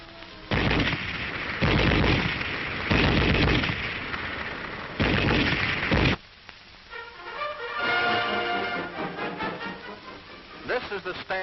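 A German Army MG-34 machine gun in 7.92 mm fires several loud, sustained bursts separated by short pauses, followed by someone narrating over quieter ambience.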